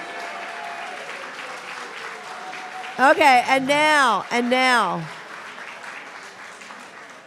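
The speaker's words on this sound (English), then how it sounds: "Give a round of applause to everybody" Applause from participants at a full moon ceremony runs at a moderate level throughout, and a voice speaks briefly over it partway through.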